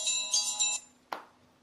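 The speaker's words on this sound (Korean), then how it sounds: "또 전화 오네." A phone ringtone for an incoming call, a melodic electronic chime repeating in three quick bursts, followed by a short clunk, likely the handset being picked up, in a quiet room.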